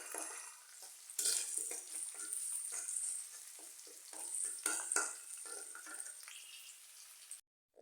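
Onion and garlic fry in a pan while a spatula stirs them, a continuous close sizzle broken by repeated scraping strokes before the sound cuts off near the end.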